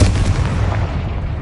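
A short, loud Confringo fire explosion spell in Hogwarts Legacy: a single heavy boom that slowly decays into a low crackling rumble.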